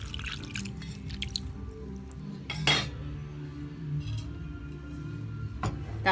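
A metal lid clanks onto a cooking pot of beef in broth on the stove, one sharp clatter amid faint kitchen ticks and low burner hum, followed later by a smaller clink.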